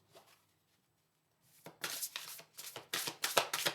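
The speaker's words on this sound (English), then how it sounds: "We'll just do one more shuffle." Oracle cards shuffled by hand in a tarot-style reading, a faint brush at the start, then after a pause a close run of quick, papery riffling bursts in uneven rhythm, alone without talk.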